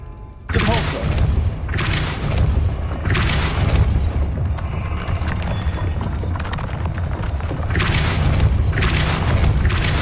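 Depulso spell impacts in Hogwarts Legacy, several loud deep booms at intervals of a few seconds over a constant rumbling game background.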